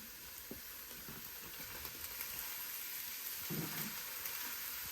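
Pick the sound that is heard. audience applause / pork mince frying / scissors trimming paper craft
pork mince frying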